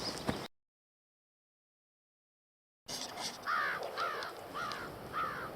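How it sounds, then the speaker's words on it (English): A bird, likely a crow, calls four times in a steady rhythm from very close by, each call a loud harsh caw, after a short stretch of silence at an abandoned campground. "Look how close this bird is to me."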